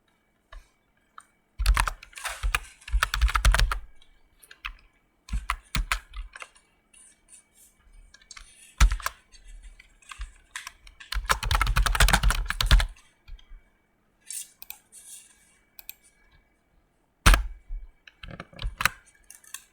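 Computer keyboard typing while React code is written, coming in irregular bursts of fast clicking with pauses and a few sharp isolated key or mouse clicks, close and fairly clear.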